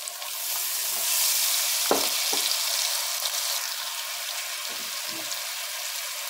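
Ginger and garlic paste frying in a pan, a bright continuous sizzle with a few sharp clinks and scrapes of a utensil against the pan, close and steady throughout.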